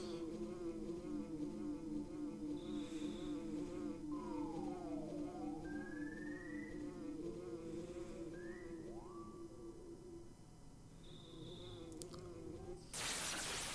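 A bee buzzing in the video game Earthbound, a steady droning hum under game music with chirpy sound effects, continuing for the whole stretch and ending in a sudden loud burst.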